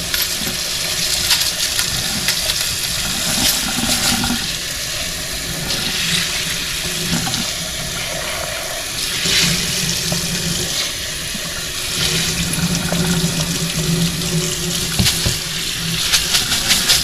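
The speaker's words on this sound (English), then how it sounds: "just start pouring them in to rinse away the excess CLR" Water pours and splashes over coins being rinsed of CLR cleaner, a continuous running, gurgling wash that swells and eases in waves, fairly loud and close, with no talking.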